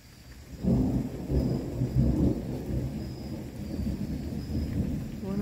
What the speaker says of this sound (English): On a stormy night.